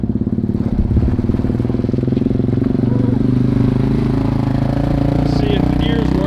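A Yamaha Warrior 350 ATV with its muffler plug removed idles loud and close. Its raw engine and exhaust drone holds steady and throbbing throughout.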